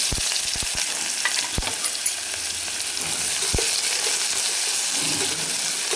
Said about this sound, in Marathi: छान तेलामध्ये याला परतून घ्यायचं आहे आपल्याला खमंग